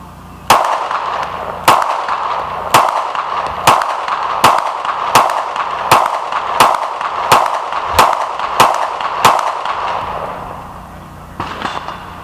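Eleven sharp gunshots from AK rifles and Canik pistols crack out one after another at a steady pace of roughly one per second, each loud, close and ringing briefly, followed by a softer clatter at the end.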